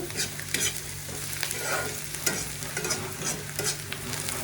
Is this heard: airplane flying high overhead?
no